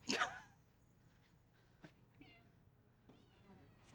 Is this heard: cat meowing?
yes